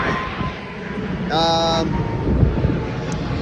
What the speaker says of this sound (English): And I got an airplane going over me.